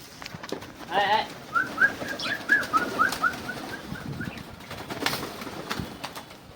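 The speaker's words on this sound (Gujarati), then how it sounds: "કબૂતર આપણા ઉપર બેઠા છે બધા જોવો તમે" Pigeons perched and gathering on a rooftop, giving soft repeated coos and chirps with a brief flutter of wings, fairly close amid quiet background.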